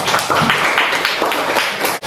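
A classroom of students applauds with a burst of close, dense clapping that stays lively for about two seconds and then cuts off abruptly.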